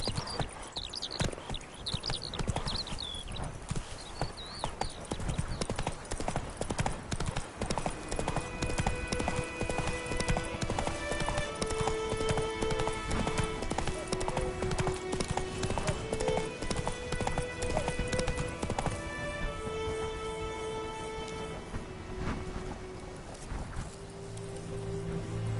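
Hooves of a horse galloping in The Witcher 3 video game, a fast continuous clip-clop running throughout at steady volume with game music and ambience underneath.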